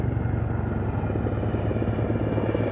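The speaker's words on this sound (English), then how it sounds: "Helicopter departs at low level to avoid any detection by the enemy." A military helicopter departs at low level during the Vayu Shakti 2019 exercise at Pokhran, its rotor chopping in a fast, steady, loud rhythm over a deep engine rumble.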